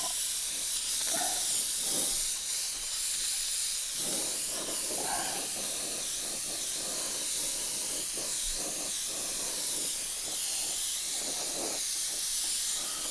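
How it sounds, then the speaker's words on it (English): An airbrush sprays paint across the background of a dragon painting, a steady close airy hiss that runs unbroken throughout, with faint tapping and handling sounds beneath and no speech. "Just random strokes with the airbrush."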